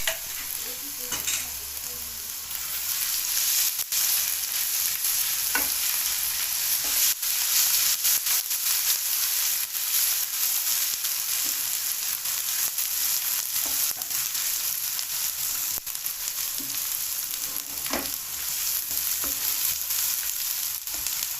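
Whole spices and garlic-ginger paste fry in a pan for a kofta curry, giving a steady, close sizzle broken by occasional stirring scrapes, with no talking.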